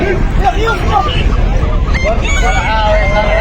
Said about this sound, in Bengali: হাঁস দেখো হাঁস হাঁস এগুলো হাঁস সবই হাঁস